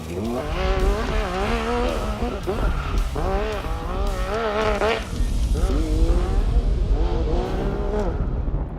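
Powerful off-road race vehicle being driven hard through the desert, its engine roaring continuously and loudly, revving and shifting with rising and falling pitch, heard from inside the cabin.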